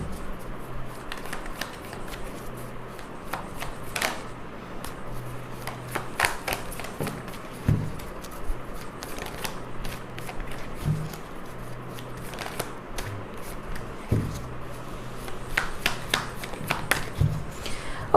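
Tarot cards from an Osho Zen deck riffle and slide continuously with crisp snaps and taps, close and steady throughout, with no talking over them.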